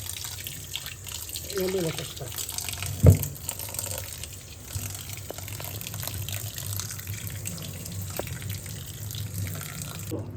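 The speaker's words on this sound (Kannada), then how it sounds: "ಅದಕ್ಕೆ ತಣ್ಣೀರು ಹಾಕ್ತಾ ಇದ್ದೀನಿ." Cold tap water runs over cooked shavige vermicelli in a kitchen, a steady splashing flow throughout with one brief spoken word.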